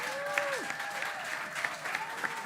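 Studio audience applause at a radio talk show, steady clapping with a few whoops and cheers throughout, moderately loud and close, with no talk over it.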